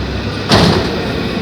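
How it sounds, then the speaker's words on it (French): Inside a metro with trains running on rails, a brief sliding-door thump and hiss cuts over a steady rumbling background of rail noise. "certaines rames, alors les nouvelles et les anciennes, elles font pas le même bruit sur les rails"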